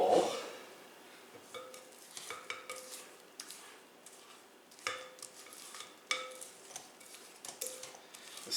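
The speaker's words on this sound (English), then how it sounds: "now going to scrape down the bowl" A spatula scrapes down the sides of a mixing bowl holding butter mixture for lemon chocolate chip cookie dough, making soft irregular scrapes and light clinks, close and without talk.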